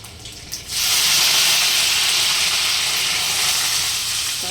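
Garlic and curry leaves hit hot oil already holding cumin and mustard seeds while tempering, bursting into a loud, steady hissing sizzle that continues evenly after a brief quieter start.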